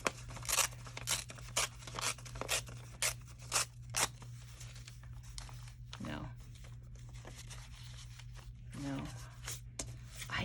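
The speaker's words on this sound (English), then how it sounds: "Maybe what I need to do is just rip this." Paper is ripped while working on a vintage folder cover for a junk journal, a run of quick tearing bursts followed by quieter handling, with someone talking alongside.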